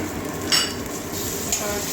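Onion frying in a pan as ginger and garlic are added for a Bengali moong dal dish, with sizzling under busy stirring and a couple of sharp metallic scrapes of spoon on pan.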